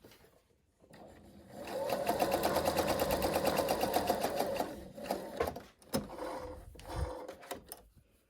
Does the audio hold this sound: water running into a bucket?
no